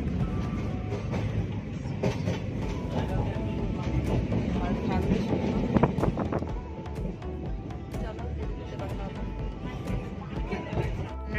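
A train runs through hilly country, heard from inside the carriage as a steady rumble with faint rail clatter and wind, while a voice talks over it.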